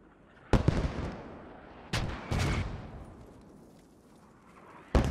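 Mortar rounds fire and land in Post Scriptum, a World War II shooter. Four separate heavy booms arrive a second or more apart, each with a sharp attack and a long rumbling decay, against quiet background.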